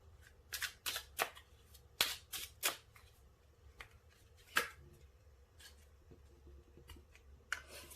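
Tarot cards being shuffled and drawn, a quiet run of crisp riffling and flicking bursts, clustered in the first few seconds and then sparser, with no talk.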